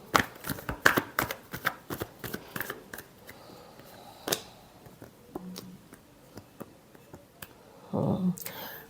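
Tarot cards being shuffled in quick, crisp riffling bursts, with a final louder flurry near the end, close and clear, mostly alone without talk.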